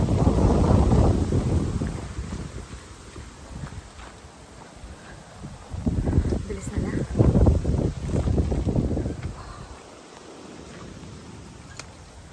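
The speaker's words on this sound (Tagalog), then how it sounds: "Sobrang hangin." Strong gusts of wind blast the microphone on a mountain hike in loud, rumbling surges that rise and fade, with a brief spoken remark amid the buffeting.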